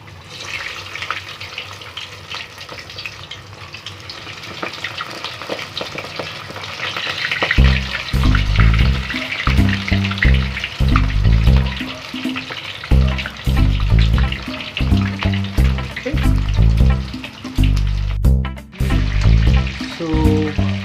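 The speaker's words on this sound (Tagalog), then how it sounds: "you can deep fry it for 5 minutes until it becomes golden brown" Cabbage rolls fry in hot oil, a steady crackling sizzle that starts partway through after a quieter opening and then runs loud and continuous up close, with no voices.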